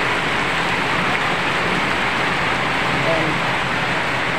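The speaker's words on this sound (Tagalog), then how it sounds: "biglang umulan, nabasa yung mga palay natin" Sudden rain pours down over a rice harvest field, a steady dense hiss throughout, with a brief voice speaking over it.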